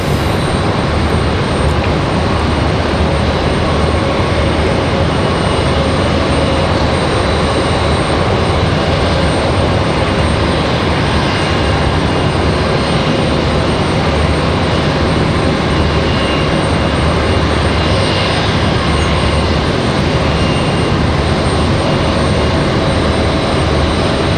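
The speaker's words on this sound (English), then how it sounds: "We got an exec jet on the final here." An executive jet on final approach at Raleigh-Durham International Airport gives a loud, continuous broadband roar that holds steady throughout, with no voices.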